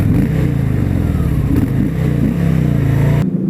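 A 2018 Harley-Davidson Fat Boy motorcycle at riding speed, its loud, close, throbbing V-twin engine note rising and falling continuously before cutting off abruptly at the end.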